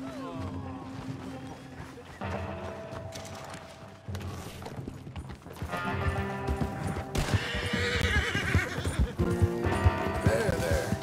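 Horses in the Western open-world game Red Dead Redemption 2 neigh and whinny while hooves clip-clop in a steady beat, over a rising music-like backdrop with some speech nearby.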